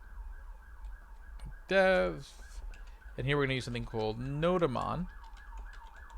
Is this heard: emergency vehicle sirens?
yes